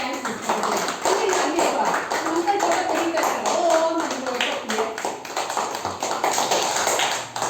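An audience at a Children's Day school event claps in a dense, sustained burst of many hands that lasts the whole stretch, loud and close, with voices mixed in underneath.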